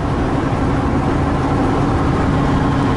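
A van driving down an open highway through Nebraska, a constant low engine drone and road rumble filling the cabin, steady and loud with no breaks.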